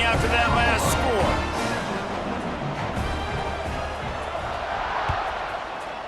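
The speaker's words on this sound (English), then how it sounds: "this crowd is buzzing after that last score" Stadium crowd at a college football game, Hawaii against Buffalo, buzzing as a dense, steady roar of many voices throughout, with scattered shouts and cheers, fairly loud and continuous; an announcer's voice is mixed in.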